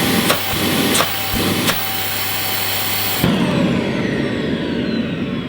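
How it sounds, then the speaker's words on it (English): Shark Stratos upright vacuum running with a blocked hose: loud droning motor and rushing suction, a few thumps early on, then a sudden change in tone as the suction relief valve cuts in. "Let's just feel the suction through the hose."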